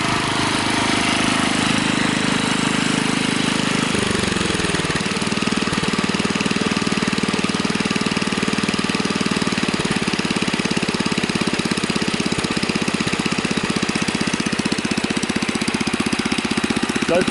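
A Husky machine's small engine idles steadily after its carburetor and float bowl were cleaned, a loud, continuous close-up rumble with a fast even pulse and a brief dip in pitch early on.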